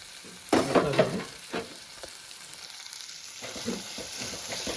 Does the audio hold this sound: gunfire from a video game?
no